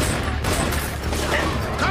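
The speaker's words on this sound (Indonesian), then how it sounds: "Baku tembak pun terjadi." A film shootout plays in the background: a dense, continuous clatter of gunfire and bursts, steady and moderately loud throughout, with no clear speech over it.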